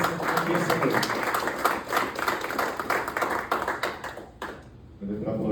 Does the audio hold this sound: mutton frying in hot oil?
no